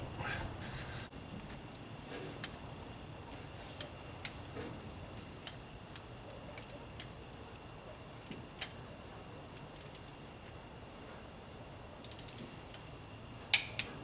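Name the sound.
torque wrench tightening spark plugs on small block Chevy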